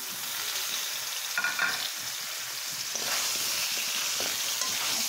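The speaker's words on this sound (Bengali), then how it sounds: "ততক্ষণে আমি চুলাতে পটলগুলা ভেজে নিই।" Pieces of potol, pointed gourd, fry in hot oil on a stove, a steady close sizzle and crackle with occasional louder spits and stirring scrapes, no talk.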